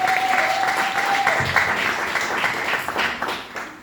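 Church congregation applauding together in a sustained, steady burst of clapping that fills the room, with a short tone at the start and fading slightly toward the end.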